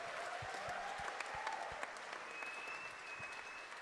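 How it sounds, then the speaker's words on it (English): An audience at an evening jazz concert applauds, steady dense clapping that fills the room and stays even throughout, with a faint whistle-like tone sliding underneath. "Can we give them a round of applause?"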